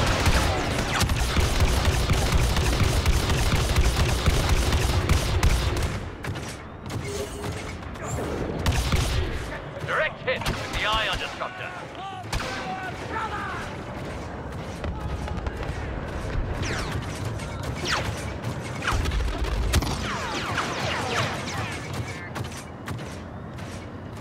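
Blaster fire and battle noise on the Kashyyyk map of Star Wars Battlefront 2, bursts of shots and mechanical clatter over a busy battlefield, loud at first then thinning, with voices calling out.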